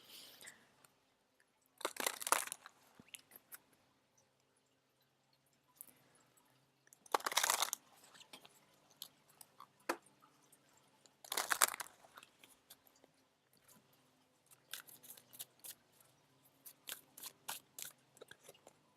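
A deck of playing cards is shuffled in a few quick, crisp riffling bursts separated by quiet pauses, followed by softer handling rustles near the end, all close up with no talking.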